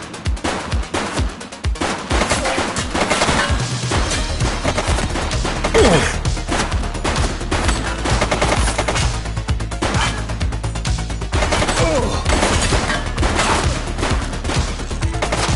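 Sustained automatic gunfire from a shooter in the police game The Precinct, dense loud rattling volleys running almost continuously with heavy low-end booms and occasional crashes.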